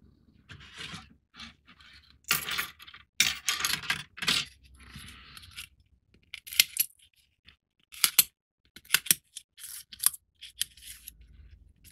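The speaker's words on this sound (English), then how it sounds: "first thing we got to do is we got to punch out all these little holes" Cardboard pieces being pressed and punched out of a CubicFun 1:302 scale RMS Titanic 3D puzzle kit sheet: a series of short, sharp snaps and papery pops, close by and alone, arriving in irregular bursts with brief pauses.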